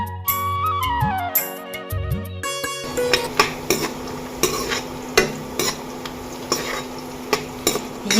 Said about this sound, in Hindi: ये बन रही है सब्जी, आलू बड़ी और थोड़ा सा मटर डालेंगे